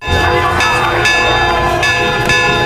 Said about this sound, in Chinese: 不远处的海军听到铃声